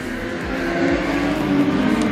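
Speedway race cars roar down the back straight at Gympie Speedway in a season opener, a loud, dense engine drone rising as they accelerate together, with no commentary over it.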